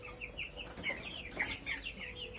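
Chickens cluck in a busy, overlapping chorus, short repeated calls from several birds close by with no talking.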